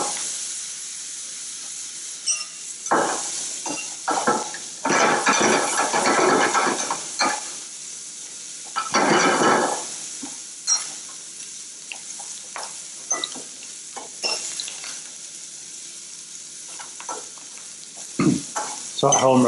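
Lardons frying in a pan toward crispness give a steady close hiss and sizzle, broken by bursts of louder crackle and several scraping stirs, with no talking.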